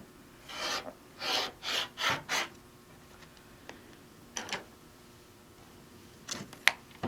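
Rotary blade cutting around a printed fabric panel for placemats, heard as several short rasping strokes in a row near the start, followed by sparse, quieter scrapes and clicks.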